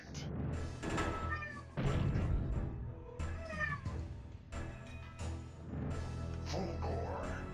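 A cat meows repeatedly at close range, several drawn-out calls over about seven seconds, mixed with game sounds and a voice in the background.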